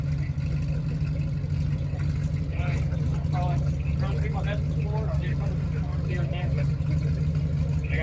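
A car engine idles steadily at a StreetScene 2023 muscle car show in Covington, Virginia, with a constant low rumble running through the clip while people talk nearby.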